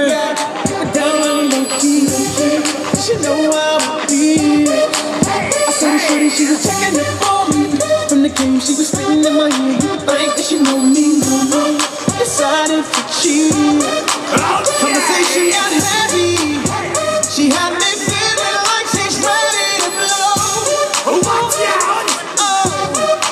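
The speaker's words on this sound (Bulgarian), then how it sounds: "Аплодисменти по червения килим" Applause and cheering for graduating 12th-grade students of a vocational high school walking a red carpet, a loud, dense crowd noise with shouts, whoops and clapping under music, with an announcer's voice over it.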